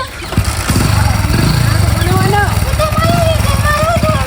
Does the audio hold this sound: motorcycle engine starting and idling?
yes